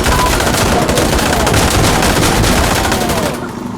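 Rapid, loud gunfire from Insurgency: Sandstorm, a sustained burst of automatic shots rattling close by for several seconds before cutting off.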